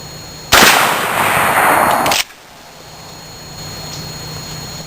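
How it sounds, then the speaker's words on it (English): A shotgun with a short length-of-pull stock fires a single round. The sharp, loud blast rings and decays for about two seconds before the sound falls back to quiet outdoor background. "I'm going to bring the gun up, fire off a round, and we'll see what kind of recoil impulse we get."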